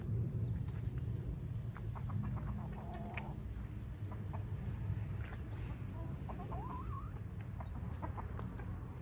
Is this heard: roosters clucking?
yes